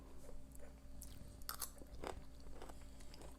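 Close, crisp bites into crunchy homemade radish pickle spiced with mustard seed, a few sharp crunches followed by steady chewing, with no talking.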